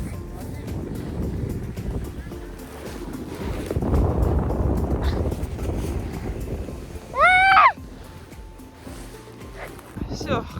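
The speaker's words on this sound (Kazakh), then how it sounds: "Жел." Winter wind blows outdoors, buffeting the microphone with a low, uneven rumble that swells in the middle, joined by a brief sharp rising squeal near the end, with people talking nearby.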